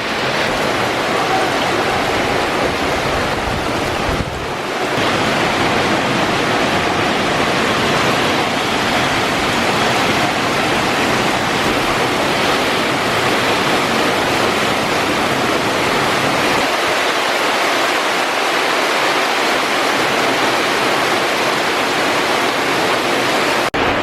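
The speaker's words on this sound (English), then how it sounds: "it is in fact most likely the start of a cyclone" Loud, steady roar of Cyclone Vardah's wind and crashing surf on Neil Island in the Andaman Islands, a dense broadband rush that barely lets up, with a brief dip partway through.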